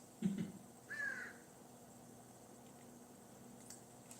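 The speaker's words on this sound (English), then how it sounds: "there's a bird on top of the chimney or something" Bird perched on top of a chimney giving a crow-like caw, two short harsh calls heard faintly indoors, followed by quiet room tone.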